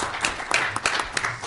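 A brief patter of audience clapping after a panel discussion, moderately loud and even throughout, with no talk over it.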